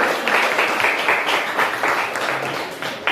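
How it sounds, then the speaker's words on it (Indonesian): Classroom applause for a student presentation group, a few seconds of brisk clapping from many hands with uneven bursts, fairly close in a room. "Tepuk tangan untuk kelompok B."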